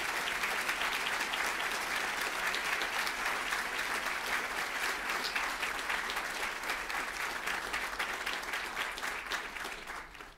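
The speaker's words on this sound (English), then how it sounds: "So I think give them a round of applause." Sustained round of applause from an audience at the dedication of a space telescope archive, dense steady clapping holding for about ten seconds before starting to fade.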